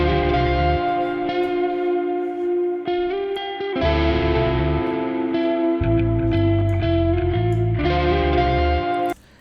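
Melancholic electric guitars shaped by Quad Cortex amp tones ring out in sustained, effect-heavy chords with chorus and echo over deep low notes, cutting off abruptly at the end; from a song production.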